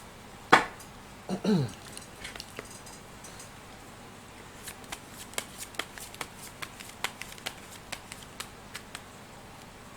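Fortune-telling cards are handled and shuffled at close range, with a couple of sharp riffles early followed by a run of light, irregular card taps and flicks, and no talking.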